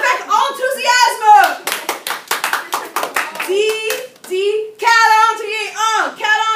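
A high school French class claps for a classmate, with sharp rhythmic hand claps coming in fast bursts close up, and a teacher's voice and kids' chatter before and after.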